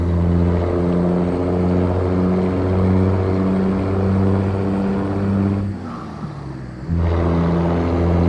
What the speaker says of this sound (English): it sounds like this truck has a plane engine